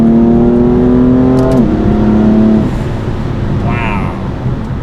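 A BMW M4 Competition pulls hard in a straight line, its engine note climbing steadily through the gears with one clear shift midway, loud and close from inside the cabin before settling into a lower steady drone.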